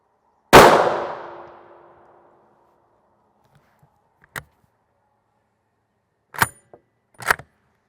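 A single loud rifle shot strikes a Hanlin Tactical NIJ Level IV armor plate, a sharp blast with a long fading ring, followed by a few brief, sharp clanks and clicks in the quiet afterward.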